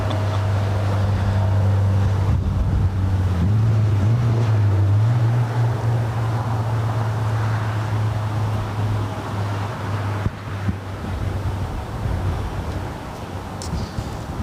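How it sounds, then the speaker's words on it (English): Cold wind gusts loudly and steadily at an airport plane-spotting spot, a heavy rushing roar with a low droning hum underneath and no talk. "Ooh, that wind is getting cold."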